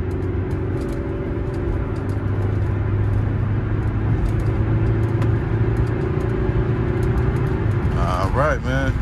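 Cheap used car on a test drive at a dealer auction, with worn front brakes and rotors. A steady interior engine hum and road rumble run throughout, and brief voices break in near the end.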